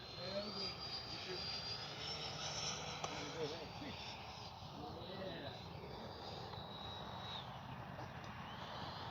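An FMS 80mm F-86 RC model jet's engine whine drones steadily throughout with a high tone drifting in pitch as it flies, while a voice talks over it; wind noise rumbles underneath.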